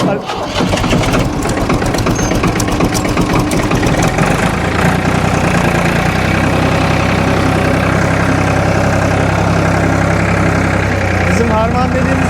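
A Ford tractor engine cranks and catches, then settles into a loud, steady idle close by, with people talking over it.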